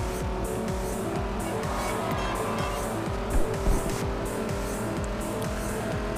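Noble M600 driving in Forza Horizon 2 in Nice, its engine droning steadily with rapid pulsing gear shifts and brief tire squeals in the middle, no voices.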